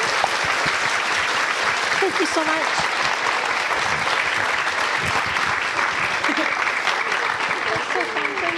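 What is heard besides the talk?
audience applause after author conversation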